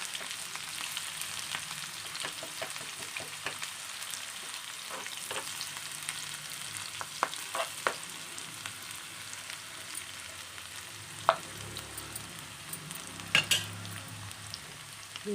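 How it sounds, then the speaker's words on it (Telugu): Goat brain pieces fry in a pan, a quiet continuous sizzle with occasional soft clinks and stirring taps, close by with no voices. "4 ముక్కలు వేసుకున్నా. ఇప్పుడు ఇవి వేసుకున్నాం. కొద్దిగా ఫ్రై కావాలి."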